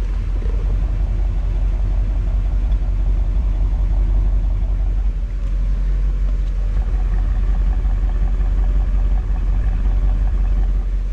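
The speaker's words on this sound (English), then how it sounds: "There it is at curb idle." A Chevrolet Bel Air's 348 V8 engine at curb idle, a deep continuous rumble with a fine regular throb, loud and unchanging throughout.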